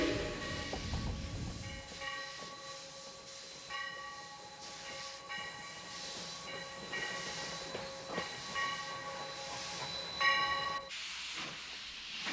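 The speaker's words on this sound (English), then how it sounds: "Leaving the Minneapolis depot, engine 1423 heads out with the Mound train, a local." A steam locomotive pulling a local passenger train chugs and hisses steadily while leaving the Minneapolis depot, with a faint whistle tone and rhythmic rail clatter throughout.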